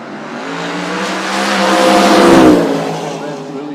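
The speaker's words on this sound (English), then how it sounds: "Corvette's really smoking. Is he going to hold off the Mustang?" A Corvette and a Mustang roaring down a no-prep drag strip at Toronto Motorsports Park, loud engine noise swelling to a peak as the cars pass close and then fading away.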